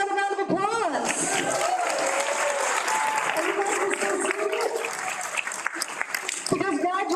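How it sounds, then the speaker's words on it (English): An audience at an adult education graduation ceremony gives graduates a sustained round of applause, dense and even throughout, with a voice speaking briefly over it at the start and end. "let's give them another round of applause"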